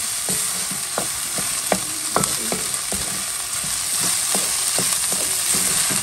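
Ginger garlic paste and turmeric fry in a pan with a steady, close broadband sizzle, broken by repeated sharp scrapes and clicks of a spoon stirring through the whole stretch.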